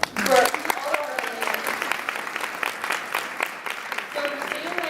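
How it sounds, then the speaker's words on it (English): Audience at an Alpha Omicron Pi Founder's Day speech event gives a round of applause, with dense clapping and voices and a cheer mixed in throughout. "we're just going to give them a round of applause"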